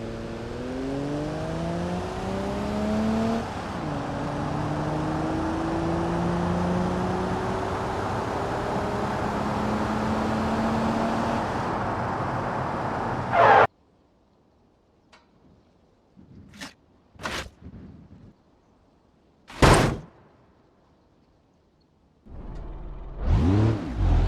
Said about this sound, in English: we will find out if the sound of the car changes if we remove the exhaust from it